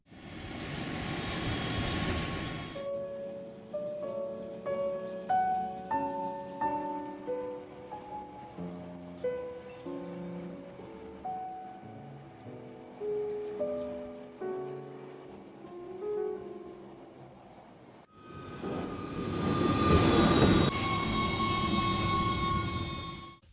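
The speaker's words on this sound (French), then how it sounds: "Avec un train toutes les 30 minutes dans chaque sens, les croisements sont nombreux." A Jungfrau railway train runs through the Swiss mountains near Wengen, its steady rumble carrying through the clip. A louder, close rushing passage opens it and another returns near the end.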